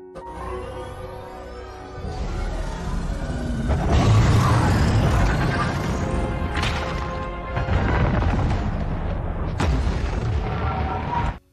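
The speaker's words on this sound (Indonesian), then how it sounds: "Tak lama kemudian planet itu pun meledak" A dramatic booming explosion with heavy low rumble, followed by further crashing blasts and debris-like bursts, loud and sustained like a cinematic destruction effect.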